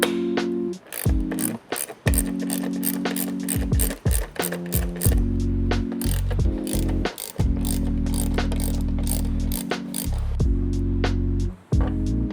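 Ratchet wrench with a 12mm socket backing out roof rack bolts on a Toyota Land Cruiser, rapid close clicking in repeated bursts separated by short pauses, alone with no talk.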